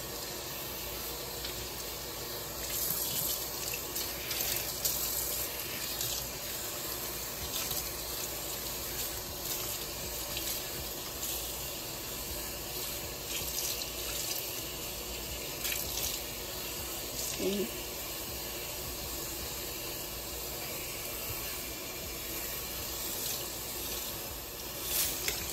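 Tap water runs steadily over a lace frontal wig as bleach is rinsed out, a continuous hissing splash with small surges and drips up close for about half a minute.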